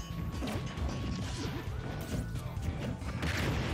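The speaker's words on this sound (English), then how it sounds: "Oh, I've smashed out a shield." A shield smashes and breaks during a video game fight amid a dense wash of game effects, with crashing impacts, whooshes and a thin electronic tone layered continuously over loud background noise.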